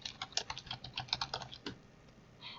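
Computer keyboard keys tapped in a quick, uneven burst of close clicks while code is typed, pausing near the end, with no voices.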